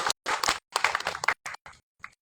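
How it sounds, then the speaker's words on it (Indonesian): Short burst of audience clapping at an Indonesian political speech, a few uneven claps and spatters close to the microphone, quick and scattered over about two seconds before fading out. "Tepuk tangan untuk para pecinta demokrasi di negeri kita"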